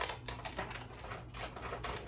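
Old, dull scissors cutting through puff vinyl make faint, quiet snips and crunches in a loose, uneven rhythm over low background noise.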